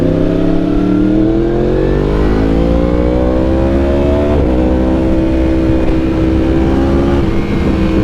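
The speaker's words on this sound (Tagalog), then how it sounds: "Nag-drive through sa Jollibee using Yamaha R1" A Yamaha R1 sport motorcycle idles and pulls through a fast-food drive-through, its loud, close engine note holding steady and rising in pitch in a few smooth sweeps.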